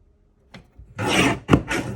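A paper trimmer slices through a card kit sheet, a faint tap and then a few close rasping cuts with a short pause between strokes.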